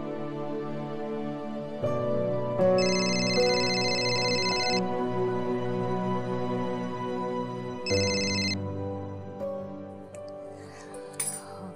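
A phone ringtone rings out in two bright, repeating bursts over a steady tonal background, loud and close, with no one talking.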